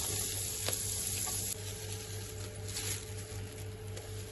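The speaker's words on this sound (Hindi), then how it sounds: "थोड़ा सा मक्खन डाल देंगे इसमें।" Butter sizzles in a hot pan while white sauce for pasta is made, a constant crackling hiss close by with a low steady hum beneath, no talking.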